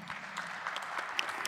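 Faint, distant applause from an audience honouring women at a legal panel event, a steady patter of many hands clapping throughout the short moment.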